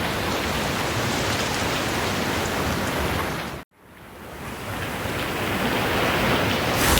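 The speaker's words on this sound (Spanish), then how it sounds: "porque nos tocó día de lluvia" Rain falls steadily as a dense, even hiss, loud and close, briefly cutting out near the middle before returning and building back to full strength.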